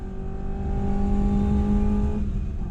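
A classic Mini race car laps a circuit on a track day, its engine droning loud and steady from close by with a slight rise in pitch and no break.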